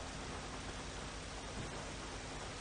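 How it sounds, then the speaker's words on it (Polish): Steady rain in the GTA V roleplay game, a dense, even hiss with no breaks, fairly quiet and heard alone. "Pada deszcz, rozpadało się."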